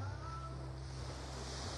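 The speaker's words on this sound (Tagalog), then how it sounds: "sarap talaga sa tenga ng alo ng ng dagat" Sea waves wash onto a beach, a constant full rushing surf with heavy low wind rumble against the microphone, loud and close, with no voices.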